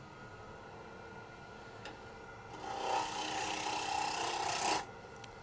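A sharp 40-degree gouge shaves the bottom of a cypress wood bowl, a steady rasping scrape that swells louder for a couple of seconds before stopping, over a constant background hum.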